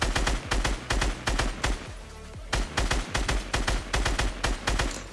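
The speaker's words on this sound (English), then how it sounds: "As I just flail my gun everywhere." Rapid bursts of automatic gunfire from a Fortnite-style solo battle royale match, fired repeatedly downward from a built-up position, loud and rhythmic with short gaps and a brief lull midway, no talking.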